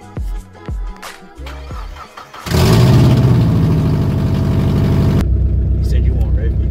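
A Mazda Miata NB engine cranks and starts partway through, then settles into a loud, steady idle close by, with brief talk at the beginning before it fires up.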